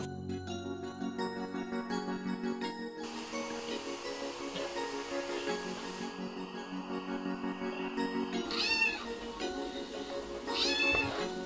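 A domestic cat meows from a cat video played on a screen indoors, with two short, bright meows near the end over a steady, busy backdrop of sound from the playback.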